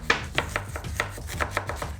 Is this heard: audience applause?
no